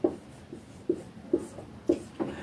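Chalk or marker writing on a board during a physics lesson on motion, with about five separate scratchy strokes in an irregular rhythm. The strokes are moderately loud and close over a quiet room, and no one speaks.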